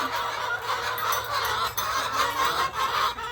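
A flock of penned ducks honks and quacks in a dense, continuous morning racket, loud and close with overlapping calls throughout and no talking.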